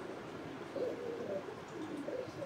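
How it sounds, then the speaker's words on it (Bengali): Pigeons coo softly nearby in low, repeated throaty phrases while being caught and handled, faint over a quiet background. "আমি আজকে অনেকদিন পরে কবুতর ধরতেছি"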